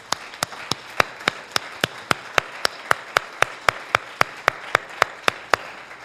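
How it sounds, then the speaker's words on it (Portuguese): Church congregation clapping in unison, a steady rhythm of sharp, loud claps at roughly four per second with faint crowd noise between beats. "Dê uma salva de palmas para Jesus."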